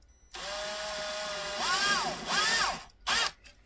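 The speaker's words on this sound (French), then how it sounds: "il faudra percer là dans le coin" A small power drill bores into a plastic prop fax machine, whining at steady speed, then rising and falling through two surges as the bit cuts in, stopping before a final short burst.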